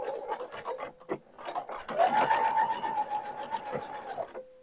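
A sewing machine stitches a short seam at the top of a shorts pocket, its rapid whirring pulses running in a burst of several seconds before stopping.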